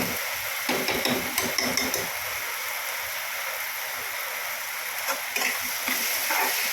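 Tomatoes with a pinch of salt are stirred in a pan for a mushroom curry, making a steady close sizzle broken by soft scraping and knocking of the spoon.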